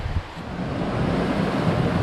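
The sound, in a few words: flowing river, west branch of the Peabody River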